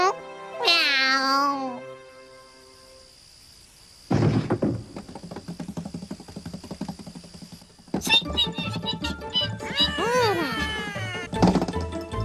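A cartoon cat meows in an animated fairy tale, a long wavering meow at the start and more expressive meows later, mixed with knocks, thumps and background music.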